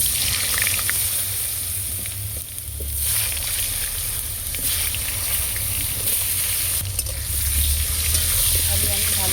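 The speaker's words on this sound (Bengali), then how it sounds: "আলু লাল লাল করে ভাজবো" Potatoes frying in hot oil, with whole cumin and bay leaf tempering, after cauliflower was fried in the same pan, a steady sizzle with stirring scrapes, continuous and fairly loud throughout.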